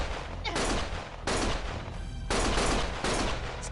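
Sustained bursts of automatic gunfire in the video game Lost Judgment, loud and dense, coming in several long volleys separated by brief dips.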